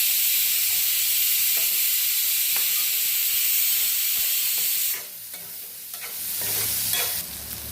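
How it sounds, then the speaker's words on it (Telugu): Onions frying in a pan until brown, a steady close sizzle with soft stirring scrapes, then a louder burst of hissing and crackle toward the end. "ఉల్లిపాయ బాగా బ్రౌన్ కలర్ వచ్చే వరకు వేసుకోవాలి."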